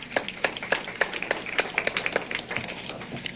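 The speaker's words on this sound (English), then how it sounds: "A round of applause." A small audience applauding in a lecture setting, a sparse scattering of distinct hand claps at close range, brief and uneven.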